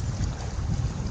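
Strong wind buffets the microphone beside water in a harbour area, a steady low roaring rumble with gusting surges and no voices.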